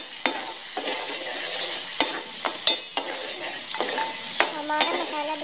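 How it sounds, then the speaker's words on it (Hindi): Masala for aloo bhujia frying in a pan while being stirred, a soft continuous sizzle punctuated by sharp metallic spoon knocks and scrapes against the pan. "हम इसे अच्छे तरीके से मिक्स करेंगे"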